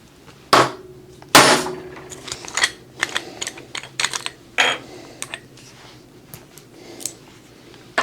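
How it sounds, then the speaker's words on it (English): Light hammer taps on 10mm Auto cartridges sound as a series of sharp, close metallic clicks and knocks, two louder strikes early followed by quicker, softer taps at irregular intervals. "just those little light whacks are moving these bullets a lot more than they should"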